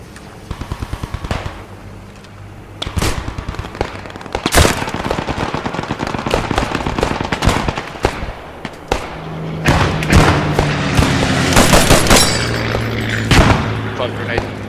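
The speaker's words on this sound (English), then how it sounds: "I'm using my 45 more than I am the rifle." Gunfire in the video game Post Scriptum on Carentan, with sharp single shots early and then dense overlapping bursts, booms and thuds of a loud battle; a voice talks intermittently amid the shooting.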